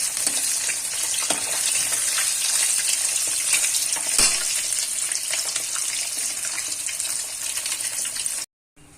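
Fish frying hard in a hot pan at home, a steady dense sizzle with occasional stirring clatter and a watery hiss throughout, cutting out abruptly near the end.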